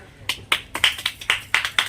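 About eight quick, even hand claps in a steady rhythm from a small group at a home prize-giving, crisp and close, with no voices over them.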